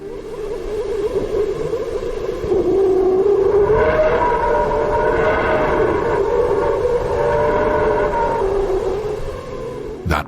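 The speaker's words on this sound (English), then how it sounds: "That was the sound of plasma within the solar wind from the Sun." Sonified plasma waves in the solar wind near the Sun, recorded by the Parker Solar Probe, form an eerie, continuous drone of sliding, warbling tones that swell and hold steady for about ten seconds, with no voices.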